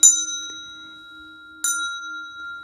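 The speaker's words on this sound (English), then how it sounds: "I'm going to start with ringing a little bell. So I have some Native American music and I have a little Tibetan bell." A small Tibetan bell is struck twice, each bright metallic ring decaying slowly with a long sustained tone between strikes, heard close and alone.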